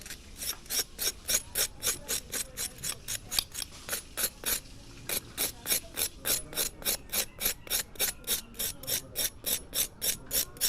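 Charcoal scraped off a roasted plantain, heard as a steady run of about forty crisp, rhythmic rasping strokes, close and alone with no talk.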